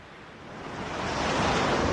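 Ocean waves crash and surge in a storm, a broad roaring wash of surf that swells louder over two seconds with no voices.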